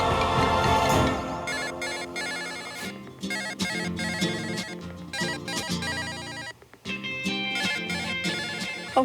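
A phone ringtone plays loud and continuous, a bright repeating melodic tune that keeps going through the whole stretch without anyone talking.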